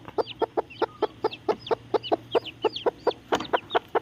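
Chickens cluck in a field while feeding, a steady run of sharp, evenly spaced calls close by, with a low hum underneath and no talking.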